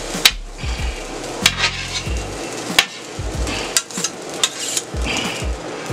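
Spatula clanks and scrapes on a steel griddle as soy sauce and sesame oil get mixed into fried rice, sharp metallic knocks recurring every second or so over a low sizzle.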